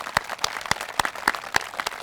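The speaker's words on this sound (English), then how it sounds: "Let's give our farmers and agriculturalists a round of applause." Applause for farmers and agriculturalists at a school of agriculture breakfast on the farm, heard as sparse, uneven claps from a modest crowd, with distinct separate hand strikes over a short stretch.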